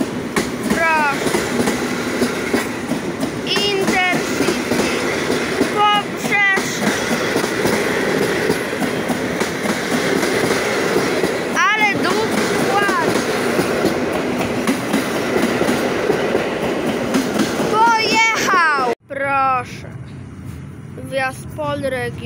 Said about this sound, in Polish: Wjazd Pol Regio Rega na stację Kołobrzeg.